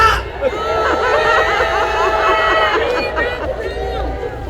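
A crowd at a patriotic rally in Korea cheers and shouts loudly and continuously, a dense roar of many voices with whoops rising over the babble throughout.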